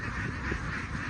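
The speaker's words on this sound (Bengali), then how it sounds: "এই বিশাল বিলের মধ্যে হাঁসের খামার, যেখানে আপনারা দেখতে পাচ্ছেন শত শত হাঁস" Hundreds of farmed ducks on a large wetland give a continuous dense chorus of quacking and honking calls, fairly close, with no talk.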